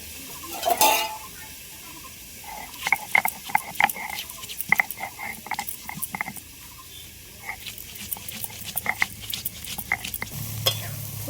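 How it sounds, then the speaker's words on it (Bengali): Cauliflower and potato frying in a wok, a steady close sizzle under repeated scraping stirs and clinks of a spatula against the pan throughout. "ফুলকপি আর আলুটা একটু হালকা করে এইভাবে ভেজে নিচ্ছি"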